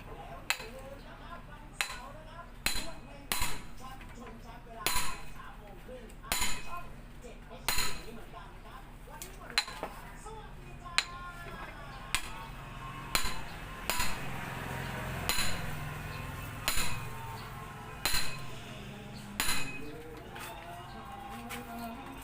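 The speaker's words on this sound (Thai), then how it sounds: "ใส่กับลูกบล็อกนะครับ แล้วก็ลองเคาะแบบนี้ดูนะครับว่าจะออกไหมนะครับ" Sharp metallic hammer taps on a socket fitted over a tight speedometer gear on a Yamaha DT125, struck one at a time with short pauses between, with birds cooing softly in the background.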